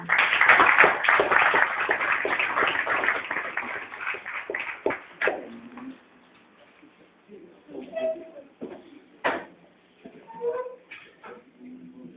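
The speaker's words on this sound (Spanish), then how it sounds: "Un aplauso, por favor." Audience applause at an economic history lecture, a dense patter of clapping that thins and fades over about five seconds before a voice begins speaking.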